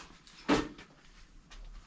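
The metal door of a Can-Am X3 UTV opens with a single sharp latch clack, followed by faint rattles in a quiet setting.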